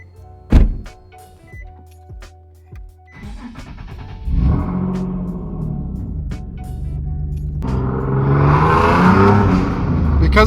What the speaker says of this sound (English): we're gonna go ahead and get a little driving in this car